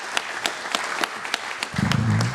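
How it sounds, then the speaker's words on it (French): Scattered applause from a small audience at the opening session of a climate and solar energy conference: a handful of distinct, spaced claps, then a voice begins speaking. "je vous demande de l'applaudir"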